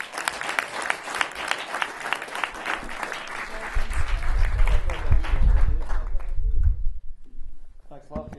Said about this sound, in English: Thanks a lot for your applause.